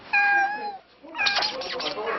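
A cat in Rome meows twice, a clear drawn-out call followed after a short pause by a louder, rougher cry, close by with no talk.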